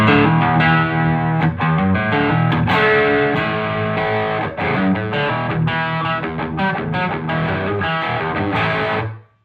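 An electric guitar plays through a Joyo Bluejay Bantamp with Golden Horse overdrive gain turned up, giving a loud, distorted and sustained run of chords and notes that cuts off abruptly at the end.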